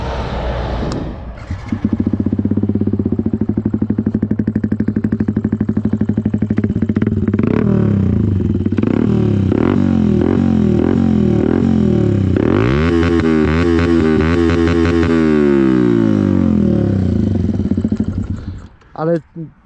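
A Rieju R1 motorcycle engine cranks, catches and settles into a loud, lumpy idle, revving up and down several times before cutting off near the end.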